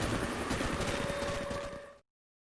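Attack helicopter from the zombie game Deadlight, a loud, steady rotor and engine roar with a high whine that runs unbroken for about two seconds and then cuts off.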